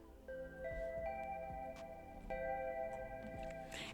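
Tybetron bell patch from the Citrus synth plugin plays a short melody of clear sustained bell tones with overlapping ringing notes and soft plucked accents, quiet and alone.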